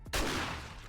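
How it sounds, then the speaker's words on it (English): A single loud, close shotgun blast in the zombie survival game 7 Days To Die, a sharp crack that decays into a long booming rumble. "Shotgun's crazy."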